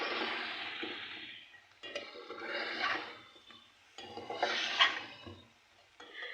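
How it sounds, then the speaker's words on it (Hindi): A spoon stirs cut round potato slices into fried tomato masala in a pan, making three or four scraping, sloshing strokes with soft sizzling and short pauses between them. "आलूओं को इसमें मिक्स कर लीजिए अच्छे से"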